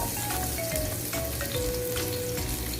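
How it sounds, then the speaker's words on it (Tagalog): Onion sautéing in hot oil in a kawali, a dense continuous sizzle heard up close, with light stirring scrapes and faint background tones. "lagyan na natin ng mantika yung kawali. Ayan guys. Guys, ilagay po natin yung sibuyas"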